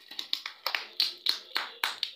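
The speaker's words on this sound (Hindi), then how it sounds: "तालियां बजाओ अभी के लिए" Hands clap alone during a blindfold challenge game, about nine sharp, fairly quiet claps in a loose, slightly uneven rhythm, close by, with short gaps between them.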